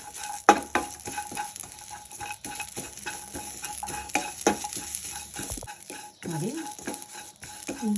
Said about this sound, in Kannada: ಇದನ್ನು ಇದರ ಜೊತೆಲೇ ಹುರ್ಕೊಳ್ಳೋಣ.